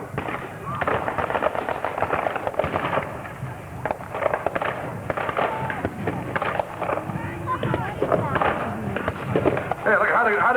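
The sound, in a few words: gunfire in WW2 battle reenactment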